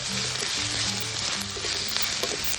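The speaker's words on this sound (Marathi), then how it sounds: "1 चमचा गरम मसाला, चांगलं परतून घेऊ।" Garam masala and spices sizzling in a pan for an Aagri-style cabbage dish, a constant bright frying hiss with occasional crackles and spatters, close and steady throughout with no talk.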